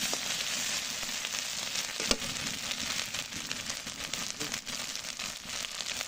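Ginger-garlic paste sizzles hard in hot oil, a steady close crackling hiss with small pops running the whole time, no voices over it.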